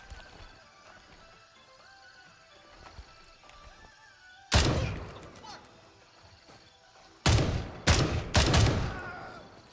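Gunfire in the video game Gray Zone Warfare cracks out in sharp, loud bursts: one shot midway, then a rapid cluster of three or four shots near the end, over quieter background game sound.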